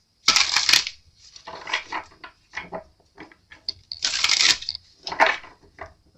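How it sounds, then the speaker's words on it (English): Tarot cards being shuffled by hand, two longer riffling bursts each followed by several shorter taps and slides, close and fairly quiet with no talking. "Give me a moment while I shuffle the cards."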